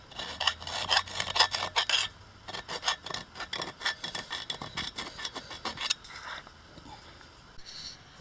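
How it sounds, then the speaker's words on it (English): A metal file rasps across the cut edge of a water well casing pipe to deburr it, in a run of quick rhythmic scraping strokes, some grouped in fast bursts, close up and fairly quiet, with no talking. "I'm going to deburr it a little bit with a file."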